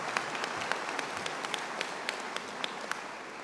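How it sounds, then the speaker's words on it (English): Audience at a university commencement ceremony applauding, a soft, steady patter of many hands clapping from a distance, with a few sharper individual claps standing out. "round of applause"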